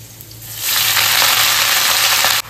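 Spinach hits hot oil with browned garlic in a wok, setting off a loud, steady sizzle that swells up sharply and holds close and dense until a sudden stop near the end.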